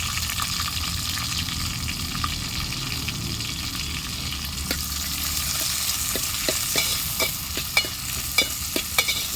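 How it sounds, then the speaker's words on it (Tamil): Onion, tomato, curry leaves and green chilli sautéing in a pan for a spicy chicken curry, a steady broadband sizzle with occasional sharp spoon scrapes and clicks toward the end, close and moderately loud, no talk. "ஓரளவுக்கு அந்த வெங்காயம் கலர் சேஞ்ச் ஆகிற அளவுக்கு நாம் வந்து நல்லா வதக்கி விட்டுடலாம்"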